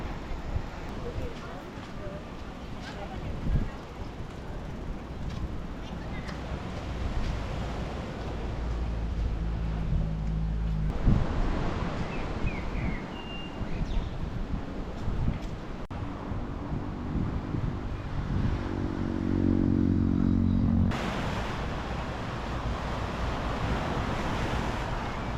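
Waves and wind on the beach at La Cala, Malaga: a continuous wash of surf with gusty wind buffeting the microphone. A voice talks over it at times, and there are brief low hums in the middle.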